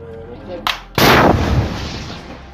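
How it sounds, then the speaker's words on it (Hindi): A Red Arrow anti-tank guided missile's sharp launch blast is followed by a heavy, booming explosion that rumbles and fades out, loud and close. "red arrow anti tank guided missile fire कर देता है, जिसमें जोरदार धमाका होता है"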